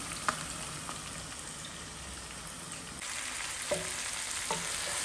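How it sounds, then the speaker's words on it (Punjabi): Aloo gobi of potato and cauliflower frying in a pan as spices are stirred in, a steady soft sizzle with occasional scraping stirs and light clinks, close and fairly quiet, with no talking. "ਮੈਂ ਪਾ ਕੇ ਮਸਾਲੇ ਤੇ ਇਹਨੂੰ ਮਿਕਸ ਕਰ ਦੂੰਗੀ"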